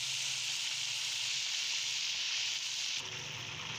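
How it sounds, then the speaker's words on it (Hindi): Lahori chargha chicken fries in hot oil with a steady, loud, close sizzle and hiss that holds evenly throughout and softens slightly near the end, with no talking. "ये चरगा हमारा फ्राई हो रहा है"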